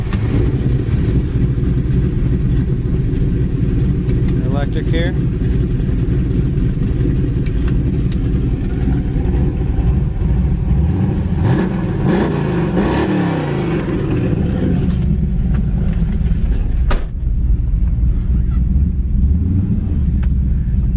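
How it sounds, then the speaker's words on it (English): A loud 1972 Chevy Nova SS engine with exhaust cutouts open rumbles steadily and rough, revving up midway before settling back to a deep idle, close by. "It's also got exhaust cutouts, so I'm going to go ahead and turn them on."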